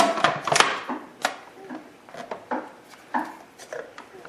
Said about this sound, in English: put your garlic in the food processor, and put your lemon in the food processor